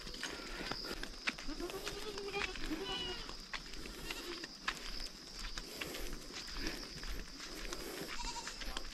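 Goats bleating in a Himalayan mountain village, scattered faint bleats amid outdoor ambience with clicks and shuffling hooves, plus some distant indistinct voices.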